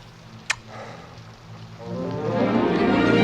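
Rain patters softly, then swells into a steadier, heavier downpour after a sharp single tap near the start.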